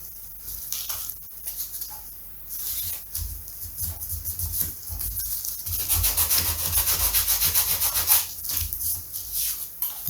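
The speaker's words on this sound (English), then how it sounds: "you can give it a little sand just to fill any slight grooves up" Sandpaper rubbing over a part of a Jasco Spotter biplane model aircraft to smooth out slight grooves, a continuous close scratchy rasp that gets louder and faster midway, with no voices.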